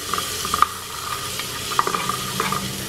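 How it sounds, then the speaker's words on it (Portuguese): Onion and garlic sauté in melted lard in a pan, giving a steady close sizzle with a spoon scraping and stirring in short bursts, no voices. "A cebola já refogou, vou colocar o alho."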